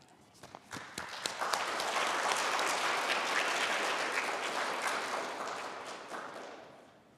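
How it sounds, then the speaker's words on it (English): Audience applause at a high school pitch competition, starting with a few scattered claps that swell into steady, full clapping from a crowd before tapering off near the end. "Please help me introduce Ryan Kim with a round of applause with his business concept"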